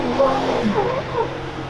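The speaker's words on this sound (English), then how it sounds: "we're going to drive back down the sand dunes" A Jeep, a banana replica build, drives back down sand dunes, its engine droning steadily with shifting revs, close and continuous for a short stretch.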